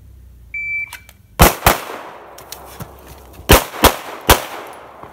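A shot timer beeps, then a pistol fires at steel targets during reload practice: loud, close shots in short bursts of two or three, separated by brief pauses.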